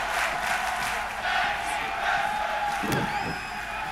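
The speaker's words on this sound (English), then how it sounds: "The crowd chanting, "Thank you, wrestlers."" A crowd at an underground pro wrestling show chants "thank you wrestlers", a loud, continuous wash of voices and cheering filling the space, with a few louder shouts near the end.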